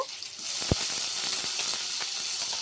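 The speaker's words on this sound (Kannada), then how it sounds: "ಇದನ್ನು ಫ್ರೈ ಮಾಡ್ಕೊಂಡು ಆಮೇಲೆ ಇದು ಬೆಳ್ಳುಳ್ಳಿ, ಆಮೇಲೆ ಗ್ರೀನ್ ಚಿಲ್ಲೀಸು" Garlic and green chillies frying in oil for a ridge gourd chutney, a close continuous sizzle and hiss with one sharp knock and light stirring clicks, no speech.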